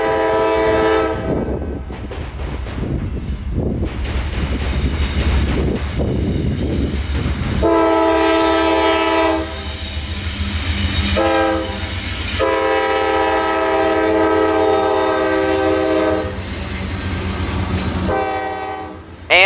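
A CSX freight train carrying loaded ethanol from Chicago to Tampa rolls past loudly with a heavy rumble, sounding several long horn blasts in a sequence over the steady clatter of the cars.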